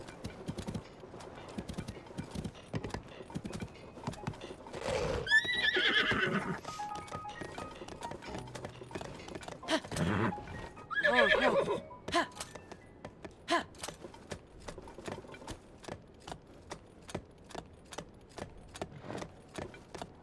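A horse in the Zelda: Tears of the Kingdom video game clip-clops steadily and lets out two loud whinnies midway, with hoofbeats continuing in a regular rhythm afterward.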